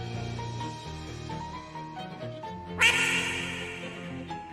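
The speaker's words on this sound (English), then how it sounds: "Quack indeed." A cartoonish duck quacks in the video game Shadows Over Loathing, a single bright squawk rising over a looping, plucky game music bed.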